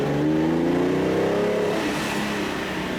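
A Ferrari Daytona on a race track, its engine revving hard under throttle with rising, layered tones that climb then settle into a steady roar, loud and close with no talk over it.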